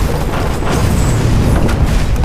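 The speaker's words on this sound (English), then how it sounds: "How about a secret bomb in Rob's terror lab that goes off and takes out the whole SWAT team?" Bomb blast in a secret terror lab in the film Mercy, a dense, continuous boom and roar that fills the whole stretch at high loudness, with no clear onset or pause.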